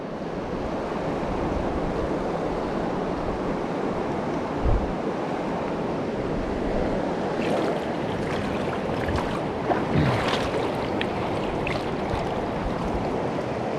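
Turbulent river water rushing steadily and loudly close by while fly fishing, with a constant broadband roar, wind buffeting the microphone and a few brief splashes near the end.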